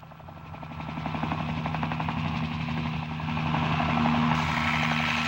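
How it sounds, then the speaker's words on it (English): Helicopters landing, a continuous rhythmic rotor thump with a steady droning engine tone, growing slightly louder and fuller partway through, heard alone without talk. "What are those helicopters doing? I think they are landing."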